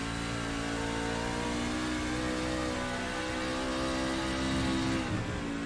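A race truck engine revs hard and steady on the road course at Sonoma during an LSR Truck Series race, a loud continuous mid-pitched roar holding high speed with a slight swell near the end.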